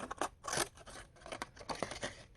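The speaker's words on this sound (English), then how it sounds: "So I'm going to cut this in half" Scissors snip through an old postcard in a quick run of close, crisp cuts with short pauses, cutting it in half.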